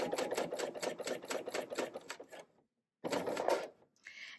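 Serger sewing machine stitching fabric while sewing a hanger cover near a zipper, a rapid close mechanical whirring run for about two seconds, a brief pause, then another short burst.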